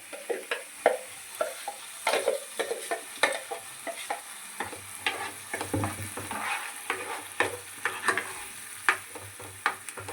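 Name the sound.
ground masala paste frying in a pan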